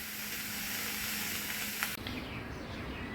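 Curry leaves dry roasting in a pan give a steady, soft sizzle and hiss, close by and unbroken, with a brief clatter near the end as the leaves are stirred.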